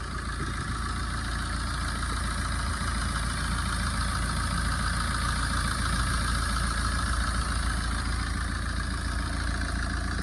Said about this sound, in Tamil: இந்த ஃபியட் லீனியா வந்து பார்த்திங்கன்னா நான் ஸ்டார்ட் பண்ணிட்டேன்.